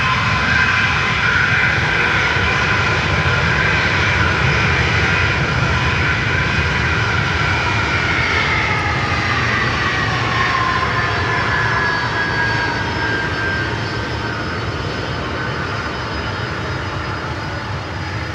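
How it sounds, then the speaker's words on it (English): Aircraft engines power up at an airport, holding a loud, continuous roar with a whining tone that slowly falls in pitch, close and steady for the whole stretch with no talk over it. "You hear the power, you hear the engines."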